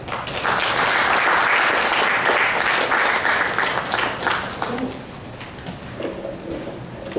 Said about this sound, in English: I think we need to have a very big round of applause